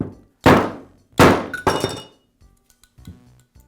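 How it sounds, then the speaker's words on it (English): A Bostitch nail gun under repair is knocked twice against a piece of 2x4 wood to free the cylinder and spacer, making two loud, close, hollow thunks followed by faint metallic rattles and small clinks. "I'll tap the back of the gun on a piece of 2x4"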